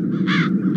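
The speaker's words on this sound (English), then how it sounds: "As long as the crows are wreaking havoc, nobody is admitted to the castle." Crows caw in the video game The Dark Eye: Chains of Satinav: a loud, harsh, close caw rises out of a low steady ambient drone, followed by a fainter second call.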